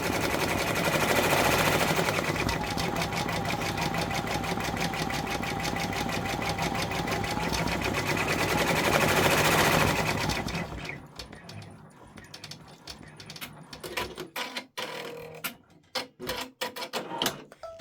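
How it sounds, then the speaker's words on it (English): A 10-needle embroidery machine stitching out a freestanding haunted village bridge design runs with a steady, rapid mechanical chatter for about ten seconds. The machine then slows into scattered clicks and thumps. "this is just 1 minute stitching"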